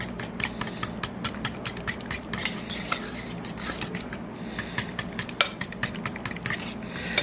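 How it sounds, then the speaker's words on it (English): Evaporated milk being whisked into pumpkin pie filling, a quick run of rhythmic metallic clicks and scrapes of the whisk against the bowl, close and fairly quiet. "we're just going to whisk this in the real good."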